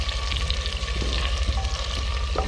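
Chicken sizzles and fries in a spiced masala inside a cooking pot for desi chicken handi, a steady close crackle with low bubbling and occasional stirring scrapes, no voices.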